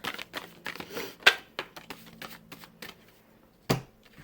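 Tarot cards are shuffled by hand in quick papery riffles and soft slaps, close and intimate, with short pauses between bursts and a louder snap near the end.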